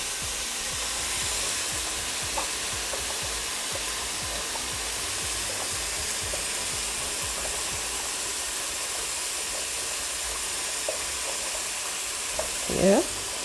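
Sweet pepper sauteing in a pan on a home stove, a steady soft sizzle and hiss of frying that runs continuously, with a few faint clinks near the end and no talk.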